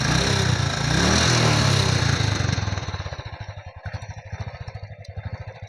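A Royal Enfield Bullet motorcycle roars loudly as it is revved, then settles into its slow, thumping idle with an even, pulsing beat close by.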